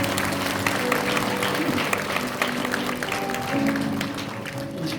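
Applause from a church congregation at an anniversary, retirement and ordination thanksgiving service, a steady dense wash of clapping lasting throughout, with some crowd murmur and faint voices underneath.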